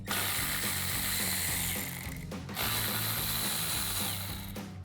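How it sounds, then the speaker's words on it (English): Ratchet with a 7mm socket turning out splash guard bolts on a 2018-2023 Mustang GT, a steady close clicking run for about two seconds, a brief pause, then another sustained burst of clicks. "we'll take out these 2 back ones here."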